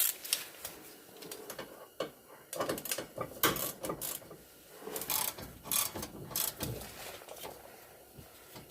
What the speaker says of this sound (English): We can grab our ratchet, start tightening those down.